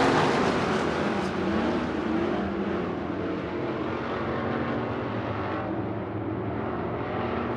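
IMCA dirt track race cars roar around Cocopah Speedway at the Winter Nationals, a loud continuous engine drone with slight swells as the field passes.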